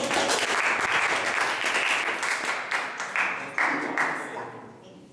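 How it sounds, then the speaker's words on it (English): An audience at a Toastmasters meeting applauding, a dense burst of clapping that holds steady, then breaks into a few renewed swells before fading out. "Please clap hands."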